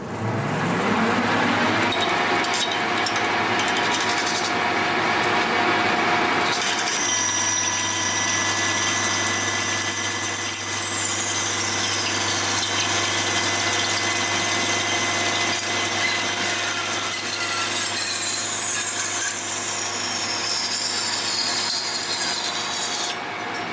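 A metal lathe parting off at 630 RPM with 0.2 mm feed: a steady motor hum under a continuous harsh cutting rasp, with a high whining squeal sweeping through as the tool feeds in, close and loud, no talk.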